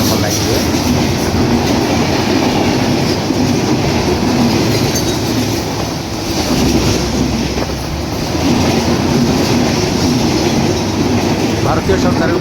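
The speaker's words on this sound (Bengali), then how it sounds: "ভারতীয় সরকারের উপহারকৃত 6553 সিরিজের লোকোমোটিভ নিয়ে আজিমনগর রেলওয়ে স্টেশনে 1 নম্বর লাইন দিয়ে থ্রু পাস করে চলে যাচ্ছে খুলনা অভিমুখে রূপসা এক্সপ্রেস" Rupsha Express, hauled by a 6553 series locomotive bound for Khulna, thunders through Azimnagar railway station on line 1 without stopping, a loud steady roar of wheels clattering on the rails that holds throughout.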